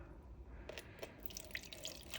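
Tap water running and splashing into a container being filled for measuring out for resin mixing, a quiet trickle with a few drips, close and alone.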